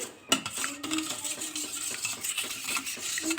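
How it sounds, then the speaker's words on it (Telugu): Raw eggs are beaten in a bowl until yolk and white combine, a rapid, steady clatter of utensil against bowl with a sharp clink near the start, close and continuous. "ఇదైతే ఎగ్స్ని బేట్ చేసుకోవాలి"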